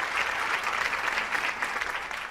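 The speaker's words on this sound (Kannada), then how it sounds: "ಅವಳಿಗೆ ಒಂದು ಚಪ್ಪಾಳೆ ಹೊಡಿರಿ" A studio audience applauds a young girl on a televised talk show. The clapping is dense and sustained throughout, fairly loud, and fades slightly toward the end.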